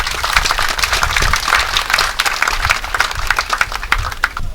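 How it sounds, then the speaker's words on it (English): A crowd claps loudly and steadily for a state governor at a public gathering about a bridge construction project, dense applause sustained throughout with no voice over it. "So just go ahead and clap for your governor and then your son."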